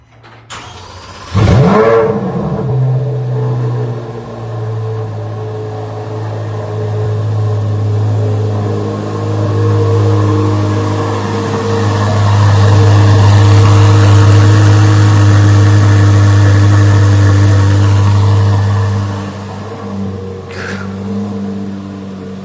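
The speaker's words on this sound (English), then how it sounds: "Let's hear a rip." Corvette C8 E-Ray V8 starting with a sharp bark, then settling into a loud, close rumble that swells into a sustained higher rev before easing back toward idle, with a brief click near the end.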